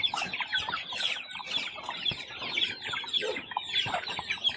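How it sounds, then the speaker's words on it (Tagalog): Several chickens cluck and chatter continuously, close by, with overlapping calls and no talking. "Ito lang ating mga manok, oh."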